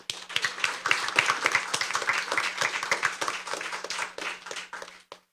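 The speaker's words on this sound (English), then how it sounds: "You can give them a round of applause" Applause from the audience at a junior science quiz after a team's score is announced, a lively burst of close, crisp clapping that swells and then tapers off over a few seconds.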